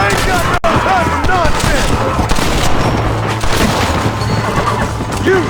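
Rapid close gunfire in the Red Dead Redemption game, overlapping shots and booms in a dense barrage over busy battle noise, with shouting voices mixed in.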